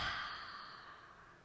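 A single soft exhaled breath during a family yoga class, a gentle airy sigh that fades out over about a second, close and quiet.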